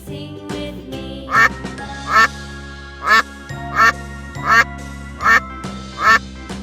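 A goose honks about seven times in a steady, evenly spaced series of loud, short calls over sustained background music.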